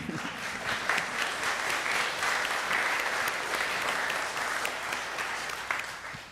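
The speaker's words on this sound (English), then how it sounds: "I'd like to have a hand of applause for this remarkable man" A church congregation claps in sustained applause, a steady wash of many hands filling the room for about six seconds, with a few faint voices underneath.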